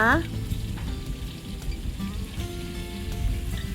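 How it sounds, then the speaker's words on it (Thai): Pork and garlic stir-frying in a hot wok: a steady close sizzle with scraping of the spatula throughout, no talking. "ใส่กระเทียมลงไปด้วย ผัดให้หอมเลยนะจ๊ะ"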